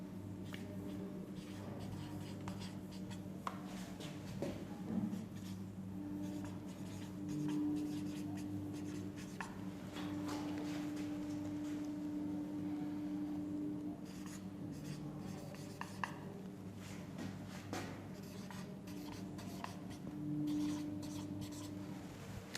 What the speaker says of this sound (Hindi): मैं यहां पर गवर्नर भी लिख देता हूं।